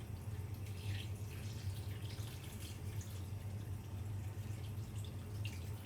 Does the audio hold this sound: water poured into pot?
yes